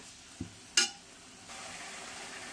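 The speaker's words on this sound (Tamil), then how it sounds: "கலக்கும் போது இப்படி கொஞ்சம் கரண்டியில் அடித்து கலக்கணும்னா சீக்கிரமாக நல்லா வதங்கிடும், மெல்ட் ஆகும் தக்காளி" Tomatoes cook in a pan while being stirred with a ladle for a Madurai-style egg curry, giving a faint low sizzle with a couple of soft knocks and a short scrape.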